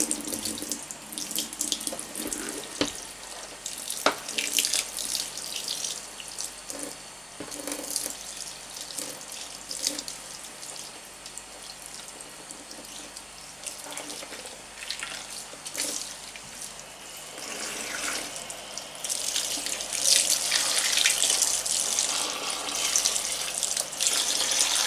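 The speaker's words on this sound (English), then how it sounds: "I'm just going to rinse cold water onto the mask to get off anything that's still on there" Cold water runs from a tap into a sink, rinsing a gas mask, a steady splashing rush that shifts as the mask moves under the stream and grows brighter toward the end, close by with no talk.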